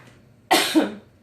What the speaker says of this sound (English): I'm still coughing just a little bit